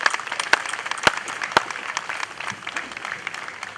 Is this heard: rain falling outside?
no